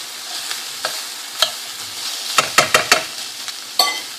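Onions for fajitas frying in a pan, with a steady soft sizzle under scraping and clacking as they are stirred, the knocks coming in a quick cluster near the middle.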